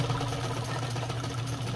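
Nelco sewing machine running steadily while the fabric is guided by hand, giving a continuous close mechanical whir with a low, even hum and no pauses.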